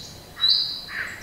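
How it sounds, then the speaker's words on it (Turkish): Two short, high bird chirps ring out against a quiet outdoor background on the Uludağ summit forest in Bursa, faint and a little apart from each other. "Kuş sesleri arasında."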